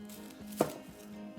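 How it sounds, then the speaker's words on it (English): Kitchen knife dicing an onion on a cutting board, a single distinct chop among faint light taps, quiet and close. "I'm dicing the onion"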